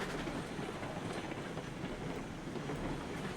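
A new locomotive rolls along the rails in RailRoads Online, a steady low rumble with faint clickety-clack of wheels on track, constant and moderately quiet throughout.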